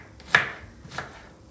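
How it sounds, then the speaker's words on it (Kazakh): Onions being chopped for Uzbek plov, two sharp knife strikes on a board about half a second apart, close and crisp against a quiet kitchen background. "Пиязымызды турап болдық."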